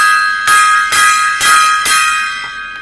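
A gong struck four times in a steady, evenly spaced series, each loud metallic hit ringing on with a sustained shimmering tone that carries over into the next, with no talking.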